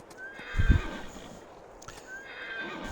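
A horse in the video game Farming Simulator 22 neighs once, a short whinny close up, over a steady low ambient hum with faint tonal game sounds.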